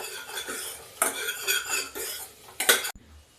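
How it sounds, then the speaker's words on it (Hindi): Metal spoon scraping and clanking against a pan while bottle gourd is stirred and roasted in a little oil, several close, bright scrapes in bursts, no talk. "अब इसकी कस के भुनाई होगी क्योंकि तेल कम है।"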